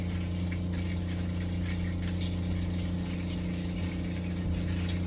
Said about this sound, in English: you can hear the water pump is just running and running right now